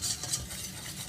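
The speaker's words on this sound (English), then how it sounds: "I'm going to start giving it a nice little stir around so that it all mixes together" Butter and flour stirred together into a paste in a pan for lasagne, a short, soft, close scraping swirl with no voices.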